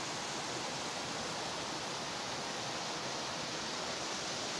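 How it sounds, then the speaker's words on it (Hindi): A stream flowing through the jungle makes a steady, even rush of water at low volume, constant throughout with no voices. "ये उधर भागमल जी है और ये यहाँ पर नाला है"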